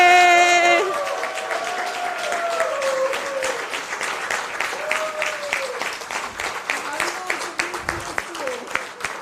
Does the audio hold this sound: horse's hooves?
no